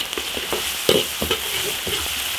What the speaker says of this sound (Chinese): 花椒、辣椒、香料炒香